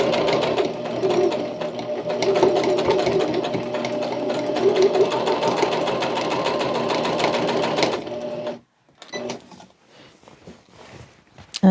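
A sewing machine stitching a fabric basket liner runs steadily and close for about eight seconds with a fast mechanical whir, then stops, followed by a few quiet handling clicks and bumps.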